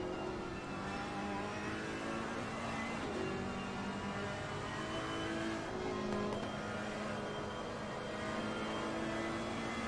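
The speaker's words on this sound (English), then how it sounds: "let's jump on board room for a bit, get a bit of engine noise going" Onboard engine drone from a Ferrari race car lapping Barcelona in Assetto Corsa Competizione, a loud continuous high-revving howl with pitch rising and falling through gear changes, steady throughout with no talking.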